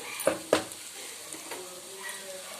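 Raw banana slices fry in a pan while being stirred: two sharp spatula clanks against the pan, then a soft, steady sizzle with faint scraping, close and without talk.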